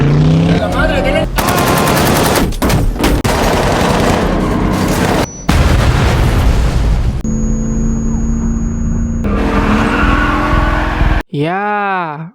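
Film action scene with a C4 bomb stuck to a bulletproof, blast-resistant car: loud bursts of rapid gunfire and blasts in harsh, dense segments, broken by abrupt cuts and ending in a tonal sweeping sound.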